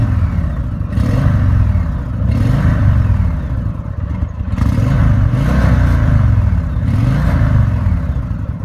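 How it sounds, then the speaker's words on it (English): A 2017 Indian Chieftain Dark Horse motorcycle engine revved while standing still, a deep, loud, throbbing rumble that swells in several repeated rises and falls of throttle. "I'm going to get Rahul to just rev it up a little bit."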